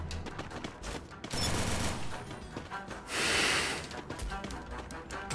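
Gunfire in the Free Fire Max video game: rapid, dense volleys of shots fire close and loud, with two heavier surges of fire over a busy background.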